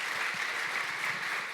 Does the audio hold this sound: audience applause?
yes